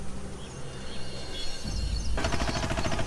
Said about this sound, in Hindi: पर तभी एक तेज आवाज आई, पटाखे जैसी।